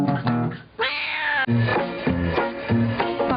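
A cat named Tigger meows over and over in a steady, beat-like rhythm, its drawn-out tonal calls close and fairly loud, with a musical backing running beneath them.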